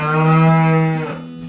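A buffalo calf gives a single drawn-out low moo, a close, loud harmonic call that slides slightly downward and fades after about a second.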